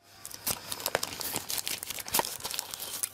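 Cardboard box and plastic packaging of an RK2020 handheld emulator console being opened, with close, soft crinkling, tearing and handling rustles in irregular bursts.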